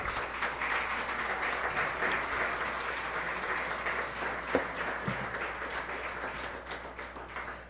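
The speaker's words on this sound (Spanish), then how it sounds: "Démosle un aplauso al Señor." A church congregation applauds during a Spanish-language sermon, a sustained, even roll of clapping from many hands in a reverberant hall, fading slightly toward the end.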